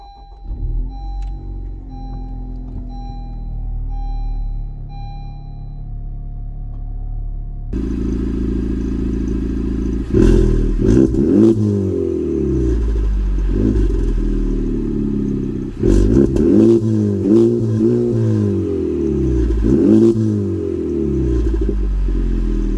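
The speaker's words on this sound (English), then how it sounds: "I do have to fix my exhaust because there is some sort of rattling going on." A Honda Civic Type R idles with a loud, close exhaust. Partway through, the engine is blipped, and the bursts bring metallic rattling and clatter from a loose exhaust over the steady engine rumble.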